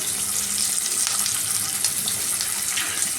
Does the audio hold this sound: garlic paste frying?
yes